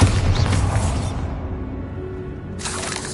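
Bombarda explosion spell in Hogwarts Legacy, a loud crashing blast with shattering debris that decays into a low rumble, then a fresh bright burst of crackling noise near the end.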